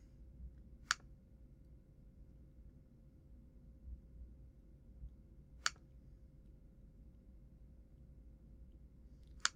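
A computer mouse clicks on a course folder, three single sharp clicks spaced several seconds apart over a faint, quiet hum.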